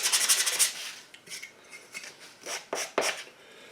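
Small battery tester contacts are rubbed with sandpaper in quick scratchy strokes, a brisk raspy burst followed by scattered short scrapes, close and fairly quiet.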